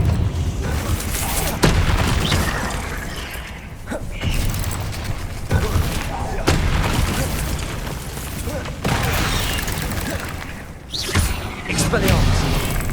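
Spell blasts and booming impacts from the Hogwarts Legacy video game, a continuous dense barrage of crackling bursts and thuds with several sharp hits, under a voice shouting spell incantations.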